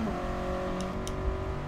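A 2021 Toyota GR86 in Gran Turismo Sport gives a steady, sustained engine tone at an even pitch, driving in rain with faint road and weather noise beneath it.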